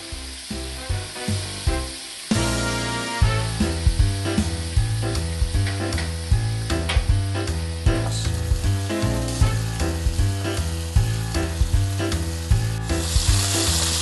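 Pieces of salt cod (bacalhau) fry in a pan with a steady, bright sizzle that runs throughout, partly masked by rhythmic background music with repeating notes.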